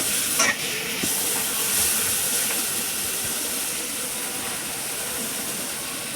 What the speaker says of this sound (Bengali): দেখুন, লাড়া চাড়া হচ্ছে মাংস কড়াতে।